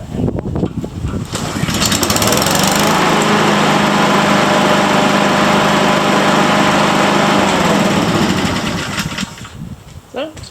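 A borrowed lawn mower runs without its grass catcher, its engine revving up into a loud, steady drone that holds for several seconds before winding down, with rattling handling noise at the start and end.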